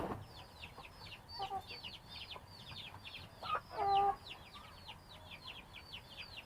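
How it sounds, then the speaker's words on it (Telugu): Country chickens and small chicks sheltering inside a farm shed during rain cluck and peep in quick, repeated bursts, with a couple of louder calls rising above the ongoing chatter. "అటు ఉన్నాయి కోళ్ళన్నీ, కొన్ని బయట ఉన్నాయి."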